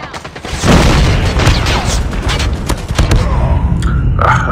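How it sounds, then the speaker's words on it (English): Call of Duty Mobile gameplay on Nuketown, with a loud grenade blast followed by a dense spell of booms, thuds and rapid gunfire, close and harsh, with brief game voice callouts. "Grenade!"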